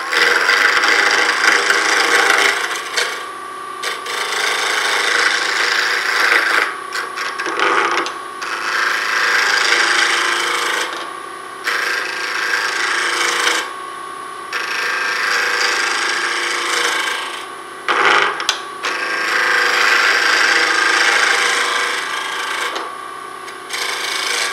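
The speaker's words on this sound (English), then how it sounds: "when you're turning, you want the center of the gouge at the center of the wood project" A wood lathe spins a mini baseball bat ornament while a gouge cuts it, making a loud, continuous close-up shaving and scraping roar that breaks off in short pauses as the tool is lifted.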